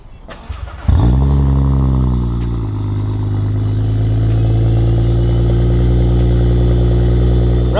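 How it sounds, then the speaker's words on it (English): A BMW N54 engine cranks and fires up, then settles into a loud, steady exhaust rumble at idle close by, with a brief click and rustle before the start. "a pretty cool thing with this car, which would be the exhaust. So let me show you how it sounds."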